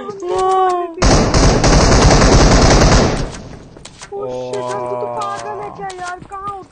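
A dense automatic burst of gunfire in the video game PUBG Mobile rattles loudly for about two seconds, with voices heard before and after the shots.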